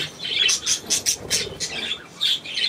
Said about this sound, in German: Kleine Möwe, hä?